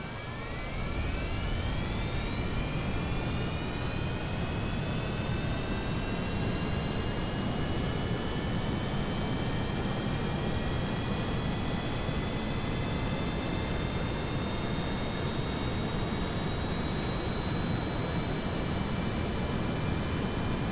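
A rocket engine held at full throttle in Kerbal Space Program roars as a continuous loud, broadband rush, with a thin whine sweeping up at the start and then holding steady.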